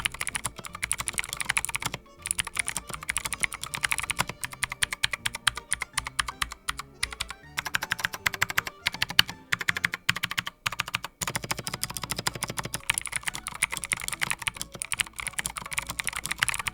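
Fast continuous typing on a customized $50 Walmart mechanical keyboard fitted with tuned stabilizers and a taped case. Crisp clacks come close and steady with brief pauses and no talking.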